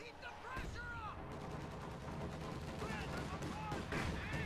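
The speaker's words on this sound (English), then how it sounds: "We have an AT strafe." Anti-tank strafing air strike in Company of Heroes 2, a World War II strategy game: bursts of rapid automatic gunfire and explosions with whistling passes, dense and loud throughout the battle noise.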